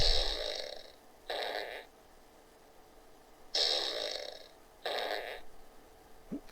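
A whoopee cushion fart sound effect plays four times, each a buzzy, raspy blast of roughly half a second to a second, separated by short silent gaps, clear and alone.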